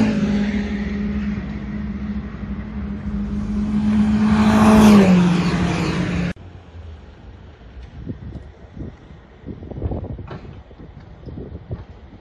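A fast road MG Midget, a sprint and hill-climb car, laps Donington Park circuit on a trackday. Its engine rises in pitch under wind buffeting, then cuts to quieter engine rumble with intermittent bursts.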